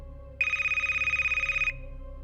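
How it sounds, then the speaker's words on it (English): A telephone bell rings in a single trilling burst of a little over a second, loud and close, then cuts off into a quiet room hum. "Right then, my phone starts ringing again."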